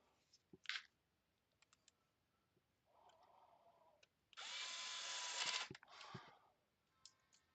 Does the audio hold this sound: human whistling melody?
no